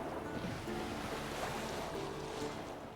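Boat crossing a fog-covered lake in The Witcher 3, with steady broadband water wash and lapping waves plus a wind-like hiss running continuously at moderate level, no voices.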